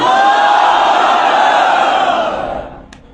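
A crowd at a religious debate gathering roars a loud, sustained unison chant of Allahu Akbar answering a takbir call, a dense wall of voices holding steady before fading away near the end.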